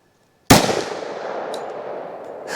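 A single loud, close 10mm pistol shot of Liberty Ammo Overwatch fired over a chronograph cracks sharply after a brief silence, then rings out in a long fading echo.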